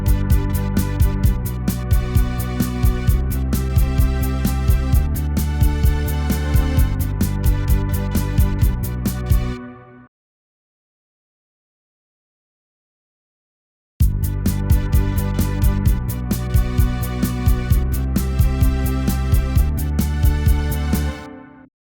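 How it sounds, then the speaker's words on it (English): A Yamaha PSR-E keyboard plays a finger bass voice layered with a string ensemble, loud and sustained, breaking off into silence for about four seconds before starting again. "here's the finger bass. And the synth, I think it's just a string ensemble from the Yamaha."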